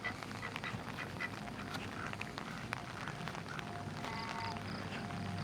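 Geese honk amid a busy, noisy outdoor campground background, with a clearer cluster of harsh honks toward the end.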